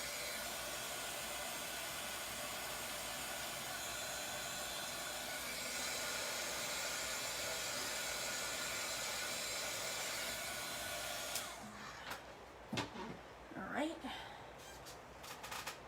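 A hair dryer blows a steady, loud broadband whoosh for about eleven seconds, drying chalk paste hearts from a Chalk Couture craft project, then cuts off leaving faint handling sounds and rustles.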